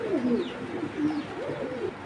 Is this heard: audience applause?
no